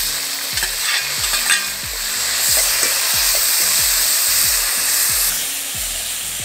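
Tomatoes sauté in a hot pan with garlic and onion for a chickpea and potato curry, a loud steady sizzle broken by rapid, rhythmic scraping strokes of a spoon against the pan, close up with no voices.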